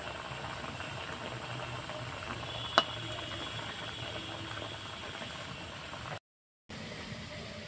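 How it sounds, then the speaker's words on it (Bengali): Khaja pastries deep-fry in hot oil, giving a soft, even hiss that runs throughout. One sharp click stands out, and the sound cuts out briefly near the end. "তো একে একে সব খাজাগুলো আমি ভেজে নিচ্ছি।"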